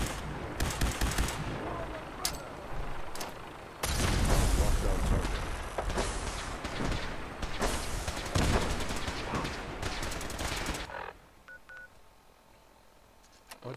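Fallout 4 gameplay where loud, rapid gunfire and heavy bursts fill most of the clip in dense volleys, with a harsh electronic beeping mixed in, then it drops to near quiet at the end.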